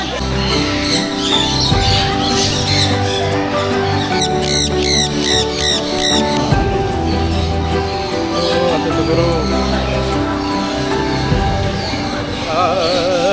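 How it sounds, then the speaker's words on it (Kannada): Free-flying birds in a walk-through aviary at Peeku Park squawk and chirp in repeated bursts close by, mixed with people talking throughout. "ಸೊ ಎಲ್ಲ ಫ್ರೀ ಬರ್ಡ್ಸ್ ಕರ್ಕೊಂಡಿದೆ ಇಲ್ಲೆಲ್ಲ"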